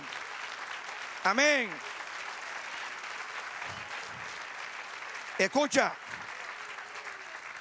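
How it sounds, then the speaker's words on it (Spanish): A church congregation applauding, a steady wash of clapping hands filling the room, with a preacher's voice speaking briefly over it at two points. "Dan aplauso al Señor."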